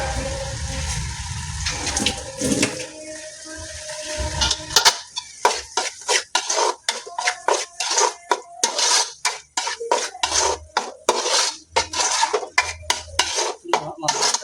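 Pepper chicken stirred in a pan, a rapid run of close metallic scrapes and clanks from the spatula against the pan in an uneven rhythm, preceded by a stretch of rougher clattering and rustling.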